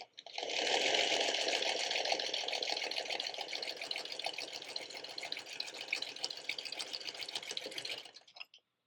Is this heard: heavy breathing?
no